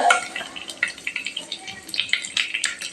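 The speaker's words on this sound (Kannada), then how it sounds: "ಸ್ವಲ್ಪ ಎಣ್ಣೆ ಫ್ರೈ ಅಲ್ರಿ ಶೇಂಗಾ ಇದು ರೀ ಕಡಲೆಬೇಳೆ ಸ್ವಲ್ಪ ಎಣ್ಣೆ ಫ್ರೈ" Peanuts and chana dal frying in a little oil, giving a light crackling sizzle with quick stirring scrapes in an irregular patter, close and moderately loud.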